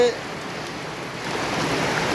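Steady rain hiss, a broad even wash of drops that builds slightly louder toward the end, with no talking.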